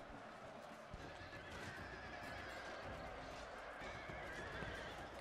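Horses neigh and whinny in a Total War video game battle, with hoof clip-clop under a dense, steady wash of game noise throughout.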